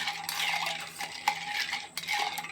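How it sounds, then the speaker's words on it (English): A spirit-only cocktail stirred in chipped ice, giving a close, light clinking and rattling of ice against glass with a bar spoon in short, uneven swirls. "So you're just going to stir that in your chipped ice."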